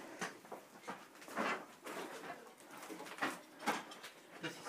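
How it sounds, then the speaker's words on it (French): A pigeon cooing inside an abandoned squatter's shelter, with repeated soft calls at a steady rhythm over faint rustling and room noise. "On a un magnifique spécimen d'oiseau"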